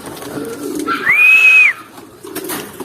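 A pet pigeon gives a single clear, drawn-out coo close by, rising and holding before falling away, with soft rustling and quieter bird sounds around it.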